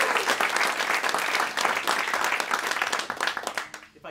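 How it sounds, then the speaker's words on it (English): Audience applause for a jazz saxophonist at a live concert: dense, lively clapping from a small crowd, steady throughout and thinning out in the final moments. "And give another round of applause for Greg Hyslop"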